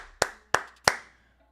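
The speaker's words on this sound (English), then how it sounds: "I'll clap it up, nice little golf clap" Three slow, evenly spaced hand claps ring out crisply and close, a polite golf clap with no talking.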